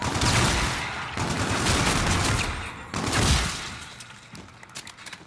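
Rapid automatic gunfire from a weapon in the Call of Duty Spacelands zombies map, loud, dense bursts that pause briefly near one second and again before three seconds, then trail off toward the end.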